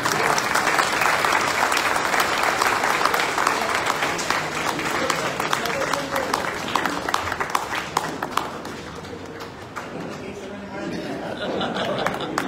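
An audience at a book launch event claps loudly for several seconds, the applause thinning out into scattered claps and murmured chatter, with voices talking.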